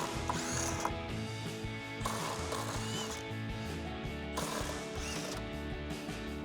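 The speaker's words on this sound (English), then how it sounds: "we can take a 13mm socket and remove the 3 nuts on each of the top of our" Rapid, close ratcheting of a socket wrench with a 13mm socket loosening the strut tower nuts on a 2008-2023 V8 Dodge Challenger, a dense continuous clicking in short back-and-forth bursts with brief pauses between strokes.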